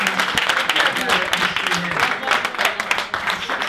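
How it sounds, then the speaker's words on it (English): A live audience at a football Q&A event applauds, with dense, continuous clapping heard close and fairly loud for a few seconds, with faint crowd voices mixed in. "can we get a round of applause for that?"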